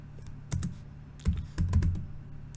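Computer keyboard keys are struck in a few quick, close clicks, spaced out in small clusters over a low background hum, without speech.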